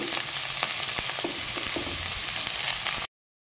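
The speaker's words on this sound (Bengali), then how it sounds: "গাজরটাকে আমি একটু ভেজে নেব।" Chopped carrots fry in a pan for vegetable dal, giving a steady close sizzle with scattered stirring clicks and scrapes for about three seconds before the sound cuts off.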